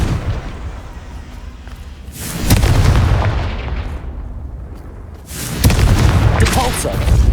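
Two heavy booming blasts of the Confringo fire spell in Hogwarts Legacy, each a sudden loud burst that decays into a rumbling tail, the second arriving about three seconds after the first.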